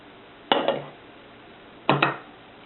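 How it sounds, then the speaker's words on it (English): A slotted spoon creaming light brown and white sugar together for chocolate chip cookie dough: two separate close clinking scrapes against the bowl, each a quick double knock with a short grainy tail, separated by a quiet pause. "Just cream that together, kind of smash the spoon down in there"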